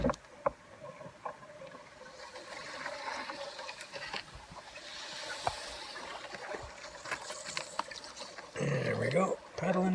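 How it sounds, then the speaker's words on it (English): A canoe is paddled through shallow water along a flooded portage in icy, rainy weather. Soft paddle splashes and water swishes are heard close by and at low level, with a louder splash near the end. "There we go, paddling the portage."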